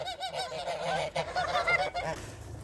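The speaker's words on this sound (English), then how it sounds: "Comes the second group of geese coming out to go on the pasture." A flock of geese on a homestead honk loudly and repeatedly at close range as they head out to pasture, a busy overlapping chorus of nasal calls.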